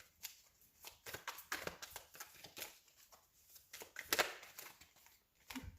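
Tarot cards being shuffled by hand in quiet, soft close-up bursts of riffling and slapping, each a second or less, with brief pauses between them.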